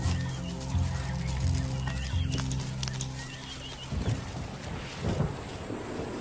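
Rolling thunder from a savanna thunderstorm, a low sustained rumble that gives way to a broad wash of rain-like noise, fairly loud and enveloping.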